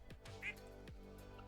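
A duck in the Stardew Valley video game gives a short, quiet quack over a soft, steady music-like background; a voice briefly imitates the quack.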